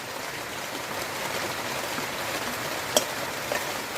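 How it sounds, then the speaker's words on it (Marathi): Heavy monsoon rain pours outdoors in an even, dense hiss that holds for the full stretch, with a single sharp click near the end. "पावसाचा आवाज तुम्हाला येत असेल कदाचित मस्त जोरदार पाऊस पडतोय"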